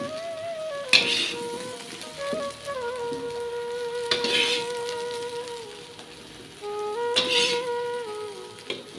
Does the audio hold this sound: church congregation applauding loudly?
no